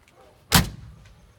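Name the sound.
1957 Chevrolet Bel Air window flipper coming down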